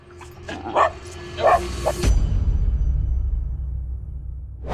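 A reactive border terrier gives two or three sharp, high yips and barks near the start, close and loud. A deep low rumble of wind or handling noise follows and covers the rest.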